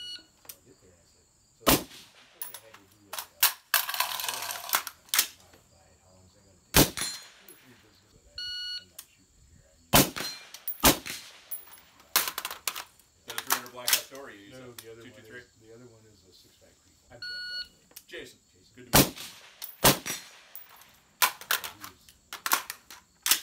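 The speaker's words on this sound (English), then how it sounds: "we're just kind of shooting the rifle to make sure it functions properly with the new stuff and the suppressor and everything" Colt 6920 rifle firing with a suppressor during a function test, a string of irregular, sharp reports spaced a second or more apart, with quieter gaps and occasional voices between shots.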